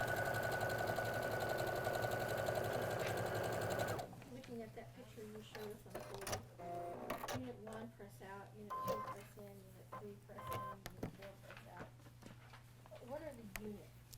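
A sewing machine stitches a quilt, its motor giving a steady, loud, close whirring hum for about four seconds before cutting off abruptly. People then talk over faint handling and clattering sounds.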